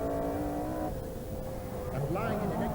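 Opel Manta 400 rally car driving on a stage of the 1988 Donegal International Rally, engine note rising and shifting with revs as it passes, heard under a commentator's voice.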